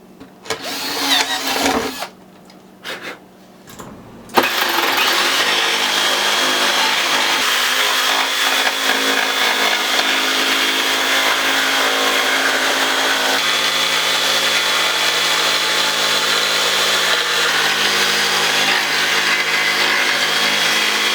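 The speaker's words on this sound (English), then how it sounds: "then I use the jigsaw and a drill to cut that out" A jigsaw whines continuously as it cuts through a wooden guitar speaker cabinet front panel, after a few brief drill bursts and pauses at the start; loud and close.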